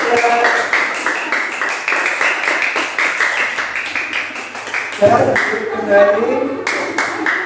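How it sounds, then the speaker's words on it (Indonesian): A classroom of students claps for a presenting group after their lesson, brisk rapid clapping from many hands close by, fading as voices and chatter rise toward the end. "tepuk tangan buat kelompok 3"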